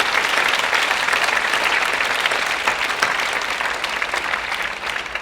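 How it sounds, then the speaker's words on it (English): Dense, sustained applause fills a school assembly hall for guest speakers at a centenary celebration in Mount Lawley, loud and even before tapering slightly at the end, with no talking over it. "Can we give them all a round of applause?"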